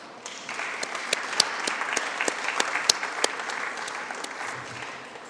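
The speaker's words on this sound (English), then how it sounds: "So give yourselves a round of applause." A crowd at a high school honors recognition ceremony claps steadily, a moderate round of applause with scattered sharper claps standing out, no talking over it.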